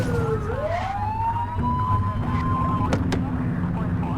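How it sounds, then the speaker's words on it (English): Police car siren in The Precinct, a video game: a wailing tone sweeps up and holds steady over a low engine rumble, fairly loud, with game speech faintly mixed beneath. "Get on their tail and flip the siren."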